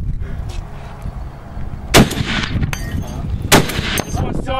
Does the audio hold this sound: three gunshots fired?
yes